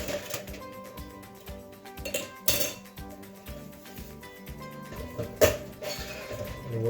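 A metal pan of pork ribs, uncovered, goes back into an oven with close clinks and clatters of metal on metal, including a couple of sharper knocks, over a faint background and no talking.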